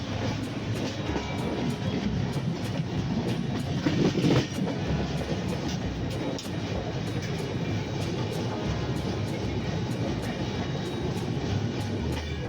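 Sampark Kranti Express rolling along Indian rails, a steady rumbling roar from inside the carriage with regular clickety-clack wheel beats over rail joints.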